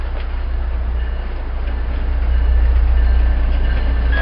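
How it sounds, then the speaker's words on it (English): A Pan Am Railways locomotive running, a loud steady low rumble with a faint high whine, close and continuous, swelling slightly toward the end. "Damn, that is one ugly locomotive."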